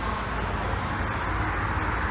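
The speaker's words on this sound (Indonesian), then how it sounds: "Agrawes lagi bus kedua yang lewat." A second Agrawes coach rolls past a toll-road rest area at KM 429 Ungaran, giving a continuous, even rumble of engine and tyres amid constant roadway noise.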